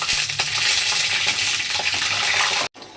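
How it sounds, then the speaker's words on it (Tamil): Peanuts frying in hot oil in a pan, a dense continuous sizzle with scraping stirs and light rattling of nuts, close and loud, cutting off abruptly near the end. "ஃபஸ்ட்டு இந்த கடலக்கொட்டையை போட்டுக்கோங்க."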